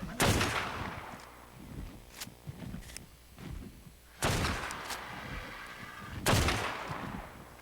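Gunshots in a video game, sharp loud single cracks spaced a couple of seconds apart with softer scuffing and clatter between them.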